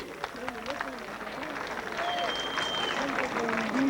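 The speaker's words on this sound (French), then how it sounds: "On l'applaudit." Spectators clap for a rider at the 1992 Arette motorcycle hill climb, scattered outdoor applause mixed with crowd murmur, voices and a whistle-like tone.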